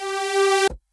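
Voice one of a DUNE 3.6 synthesizer sounds a single buzzy tone rich in harmonics for about half a second, then cuts off abruptly into silence.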